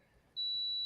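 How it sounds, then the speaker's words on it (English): A crock pot gives off a steady, high-pitched electronic beep that starts abruptly and holds as one continuous tone, clear and moderately loud in a quiet indoor room. "that's my dinner beeping my crock pot"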